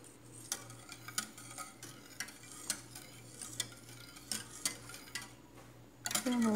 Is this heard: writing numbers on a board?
no